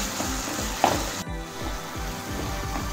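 Tomatoes frying in masala in a pan give off a steady sizzle with soft stirring scrapes and a brief clink partway through, close and moderately loud, with no voices.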